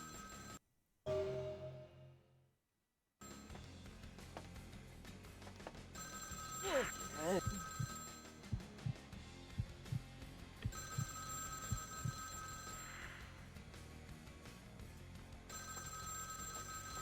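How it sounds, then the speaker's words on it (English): A telephone rings repeatedly in the Vampire: The Masquerade – Bloodlines video game, steady electronic trills recurring in bursts over a quiet, low ambient background after a brief dropout near the start. "So let's answer the phone."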